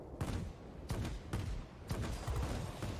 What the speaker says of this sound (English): Shoot it with the rear gun, and it blows up